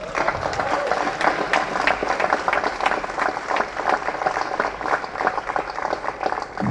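An audience applauds an honored man, a dense, steady patter of many hands clapping that carries on evenly throughout.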